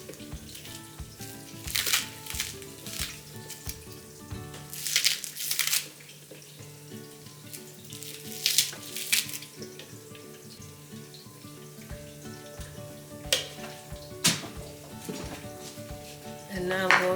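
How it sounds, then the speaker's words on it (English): Green onion sizzling in a pan for a Guinean smoked catfish soup, a steady frying crackle with recurring bursts of stirring and clattering, close and moderately loud. "And then I'm going to add the green onion."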